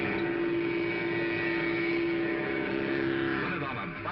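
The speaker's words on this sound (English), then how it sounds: "Sounds like a real engine." A steady buzzing engine drone with a constant pitch hums close by, mechanical and toy-like, from a Mattel toy motorcycle engine-sound device, easing slightly near the end.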